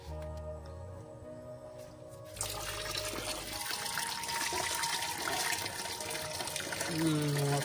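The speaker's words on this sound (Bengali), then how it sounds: "তো বাবা মার মাথায় জল দিয়ে দিক।" Water poured over a woman's head during a bath at home, splashing and running steadily after a quieter start, rising a little toward the end, with some faint household noise behind.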